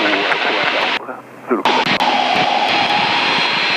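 A Pitts S2C aerobatic biplane's engine roars loudly through an aerobatic turn, dropping away briefly mid-manoeuvre before surging back, with a voice speaking over the cabin noise.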